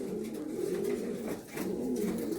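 Andhra pigeons kept at a home loft coo in two deep, rolling phrases separated by a short pause, close and steady with no voices.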